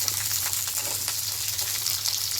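Chopped onion and capsicum fry in a pan with green chilli for fried rice. A steady, fairly close sizzle hisses continuously, with no talking.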